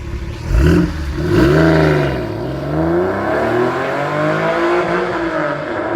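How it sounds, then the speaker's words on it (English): A Porsche 911 996 C4S sports exhaust revs up twice in quick blips, then settles into sustained, rising and falling revving with a raspy, close, loud tone and no talking. "So the sports exhaust definitely sounds a lot better"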